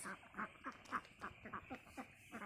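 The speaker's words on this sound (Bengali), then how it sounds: "আমার এখানে একশোটি হাঁস আছে" A flock of about a hundred laying ducks quacking repeatedly in quick, uneven bursts, fairly close, with no talking.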